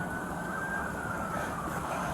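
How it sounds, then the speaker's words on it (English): An ambulance siren wails steadily for the full stretch, its single sustained tone sliding slowly downward, loud and continuous with traffic rumble beneath and no talk. "That's an ambulance."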